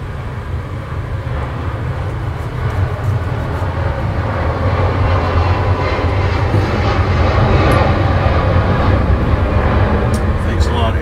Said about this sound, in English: Thanks a lot, airplanes.